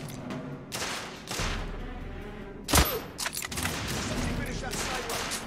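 Gunfire exchange in The Order 1886, sniper shots among rapid bursts of rifle fire, with one loud close crack standing out amid continuous battle noise and shouting voices.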